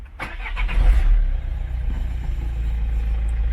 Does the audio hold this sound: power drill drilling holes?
no